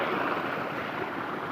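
Steady broadband rush of water flowing from an opened valve to irrigate a castor field, continuous and fairly close, with no pauses or voices.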